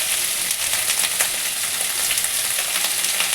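Steady, close sizzle of ridge gourd frying in a pan as turmeric, salt and chili are added, with faint stirring scrapes under a constant bright crackle.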